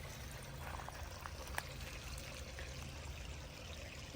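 Small clear creek trickling in botanical gardens in Manukau, Auckland, a steady soft broadband wash of running water close by, faint and continuous throughout with no talk.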